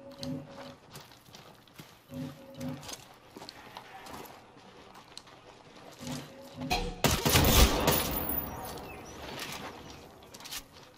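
A sudden loud burst of gunfire from the tactical shooter Ghost Recon Breakpoint erupts partway through, after a stretch of quieter ambient game sounds with soft rhythmic clip-clopping.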